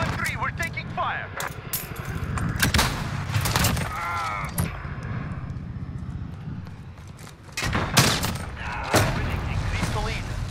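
Gunfire and explosions in the video game Call of Duty: Modern Warfare, scattered sharp shots and booms at close range with game voices and a player talking throughout.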